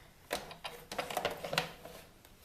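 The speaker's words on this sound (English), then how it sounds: "just take my adapter plate off, bring my machine in again" A card fed through a die-cutting machine inside an embossing folder, giving a series of close, uneven mechanical clicks and grinding bursts over about two seconds, with no talking.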